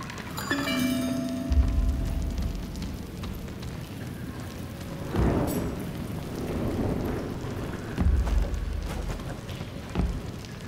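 Rain falls and thunder rumbles in the video game Trek to Yomi: a constant wash of rainfall broken by several deep, booming thunder bursts, with no voices.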